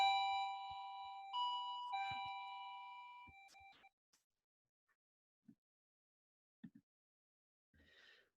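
A two-tone doorbell chime rings out clearly, its tones sustaining and fading, followed by a few faint knocks and a soft rustle.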